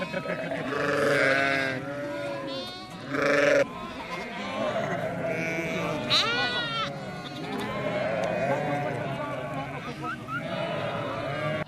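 A flock of ewes and lambs calls out as they are reunited on a farm, with overlapping loud, wavering bleats from many animals, close and continuous, in a busy chorus.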